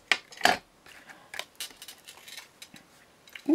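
Scissors snipping through thin cardstock while making scrapbooked Christmas cards, a few crisp, close cuts early on followed by softer scattered snips and handling noises.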